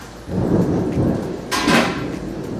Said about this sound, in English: We have thunder and lightning and a really amazing rainstorm